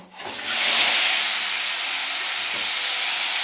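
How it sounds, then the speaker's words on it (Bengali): Prawns drop into hot oil and set off a sudden loud hiss that swells within half a second and then holds as a steady, close, bright sizzle with no talking. "এই তেলের মধ্যে এটাকে আমি দিয়ে দেবো। দিয়ে এর মধ্যে আমি এই চিংড়ি মাছটাকে এর মধ্যে দিয়ে দেব।"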